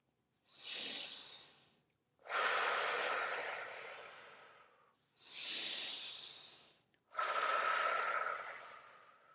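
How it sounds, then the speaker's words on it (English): Slow, deep conscious breaths, drawn in and pushed out in four long airy swells with short pauses between, close and breathy with no talking. "Conscious effort to bring air in and push air out."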